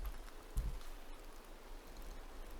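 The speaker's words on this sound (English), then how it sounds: "Just a nice rain sample." A rain sample plays as steady lo-fi background atmosphere, a soft continuous hiss of rainfall with a faint low rumble, quiet and even throughout.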